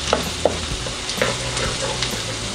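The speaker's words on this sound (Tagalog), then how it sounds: "hihintayin lang po natin na medyo mag-golden brown po yung ating bawang para mas lalong mabango siya" Garlic fries in a pan with a soft, continuous sizzle, broken by a few sharp clicks and scrapes of stirring, close and fairly quiet, with no voices.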